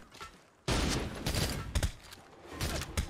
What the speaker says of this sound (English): I gotta kill this guy with a musket.